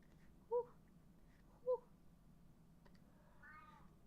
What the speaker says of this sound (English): The one before that was my cat.